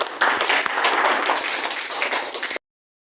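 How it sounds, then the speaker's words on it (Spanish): Classroom applause for a secondary-school student presenter: a steady burst of clapping from a group of pupils that runs for about two and a half seconds, then cuts off abruptly. "aplausos para Fabricio"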